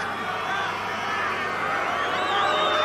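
A crowd at a 1991 Rugby World Cup match between France and Canada cheers and roars steadily, a broad wash of voices swelling slightly toward the end.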